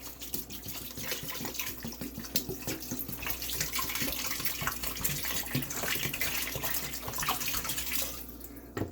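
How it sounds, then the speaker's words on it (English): Water is poured into a small pot while making banana wine, a steady, close splashing stream that runs continuously without talk. "I want to pour off a little bit of the water into our small pot"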